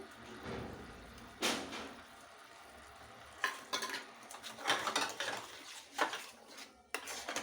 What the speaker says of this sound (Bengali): এই ডালটা দিয়ে এটাকে এবার কষিয়ে নিতে হবে ভালো করে যতক্ষণ না কড়াই থেকে ডালটা ছেড়ে যায়